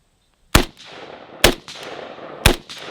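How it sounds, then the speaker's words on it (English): A Zastava N-PAP DF Yugo underfolder AK rifle fires three sharp, loud shots about a second apart outdoors, each followed by a short echoing tail. "Start shooting stuff."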